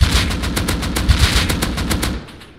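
Rapid automatic AK rifle fire in the video game Rust, a loud, steady stream of closely spaced shots lasting over two seconds before cutting off, no voices.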